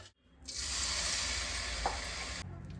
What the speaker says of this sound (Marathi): यानंतर आपण यामध्ये तेल ऍड करणार आहोत, ज्यामध्ये आपण पूर्ण मसाला भाजून घेणार आहोत ग्रेव्हीसाठी.